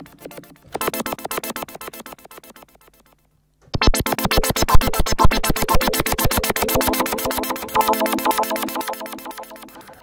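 Korg Karma synthesizer patch loaded in a Reason combinator, a dense buzzing rhythmic pulse that stops for a moment, then returns louder and fuller with rapid repeated hits.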